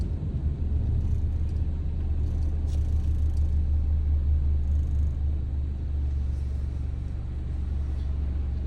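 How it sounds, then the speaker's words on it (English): Road traffic passing, a steady low engine rumble of cars rolling by without pause. "Y'all see the traffic starting to fill up now."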